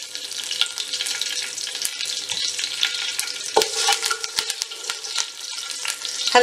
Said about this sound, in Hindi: इसके अंदर हम सबसे पहले मेथी दाना डालेंगे और साथ ही आधा राई दाना डालेंगे